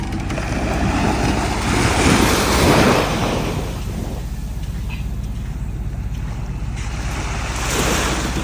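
Surf washes steadily onto a tropical beach at Port Barton, Palawan, a continuous broad rushing roar with a swell near the start and another toward the end, some wind noise on the microphone, and no talking.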